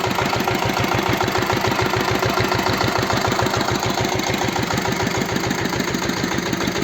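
A Kentavr 160V walk-behind motor tractor engine idles nearby with a steady, rapid low chugging that continues evenly throughout, loud and alone.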